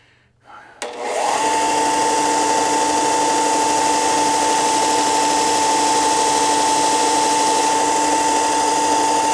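A power sander starts up and runs at a constant, loud, high whine while sanding a compound angle on a piece of wood, steady and close with no talk.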